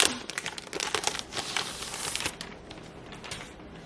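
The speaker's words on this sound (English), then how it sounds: "let's open up the keyboard" Packaging crinkling and rustling as a new keyboard is unboxed, dense close crackles and crumples that thin out into softer handling sounds, no talk.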